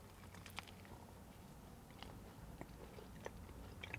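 Someone bites into a flaky puff-pastry galette des rois filled with frangipane, faint crackling crunches and soft chewing scattered over a low background hum.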